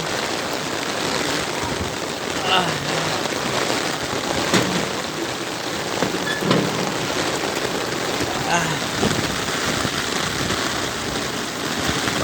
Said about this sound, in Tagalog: Yan po kalakas ang ulan dito.